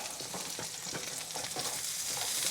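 Grits with about half a stick of butter are stirred in a pot, a close, continuous hissing bubble with soft repeated stirring strokes throughout and no voices.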